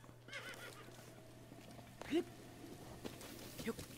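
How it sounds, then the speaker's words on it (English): A horse whinnies once in the Zelda: Breath of the Wild video game, a short bright neigh rising above quiet game ambience with a steady low hum, followed by a few faint clip-clops. "See if that gets my horse over here."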